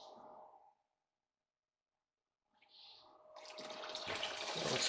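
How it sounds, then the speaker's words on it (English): A pump starts up and water gushes steadily into gold sluice weirs, growing louder as they fill after a brief silence. "Now we'll plug in the pump and elevate this front end and get the weirs full"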